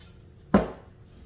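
A single sharp metallic clatter at close range, like a cooling rack or pan knocked while pork belly cubes are set out for burnt ends, then quiet.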